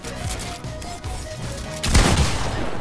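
Rapid bursts of game gunfire rattle out in repeated pulses, growing louder and denser near the end, with no talking.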